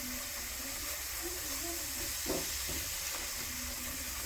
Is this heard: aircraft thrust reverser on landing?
no